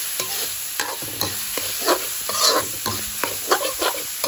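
Food sizzles in a hot wok while a utensil scrapes and clatters in repeated stirring strokes, close and steady throughout, cooking for pork noodle soup.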